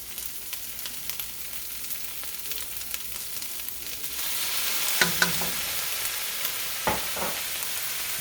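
Turmeric fried rice with ham, oyster sauce and soy sauce is stir-fried in a pan, starting with a quieter sizzle that swells into louder hissing partway through, punctuated by a few sharp scrapes and clinks of a spatula.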